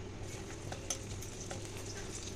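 Broken bay leaf and whole garam masala spices sizzle steadily in hot mustard-style fish-frying oil, a soft continuous crackle with a faint stir partway through.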